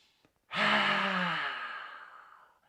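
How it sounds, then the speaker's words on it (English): A single forceful exhale pushed through a wide-open mouth with the tongue out, a yoga breath that bursts loud and raspy, then fades over about two seconds with no talking. "Open the mouth, pull out the tongue, breathe out."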